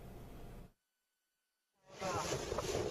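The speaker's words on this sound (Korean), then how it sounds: "우리 해경단정이 파도를 헤치며 중국 어선 한 척을 뒤쫓습니다" A coast guard patrol boat speeds through rough sea in the dark before dawn, giving a steady roar of engine, wind and crashing spray that cuts to silence and then returns louder.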